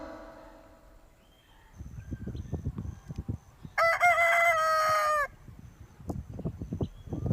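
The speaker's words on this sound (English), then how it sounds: "H for hen." A hen clucking repeatedly in short bursts, broken midway by one loud, drawn-out crow, then more clucking, close and clear.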